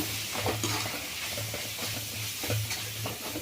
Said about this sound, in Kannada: ಇದನ್ನೊಂದೆರಡು ನಿಮಿಷ ಎಣ್ಣೆನಲ್ಲಿ ಫ್ರೈ ಮಾಡೋಣ